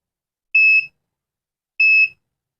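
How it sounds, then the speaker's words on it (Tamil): An Arduino rain-sensor alarm buzzer gives two short, high-pitched electronic beeps, evenly spaced and clear, with silence before, between and after them. "இதில் ரெயின் பட்டுச்சுன்னா எனக்கு வந்து பீப் சவுண்ட் வரும்"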